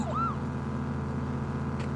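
A police car siren in PUBG whoops briefly at the start over a steady engine drone, then the hum carries on alone.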